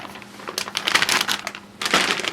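A plastic bag holding parts from an Axial Yeti radio-controlled truck kit crinkles and rustles in close, irregular bursts during unboxing, with a short pause before a final crinkle.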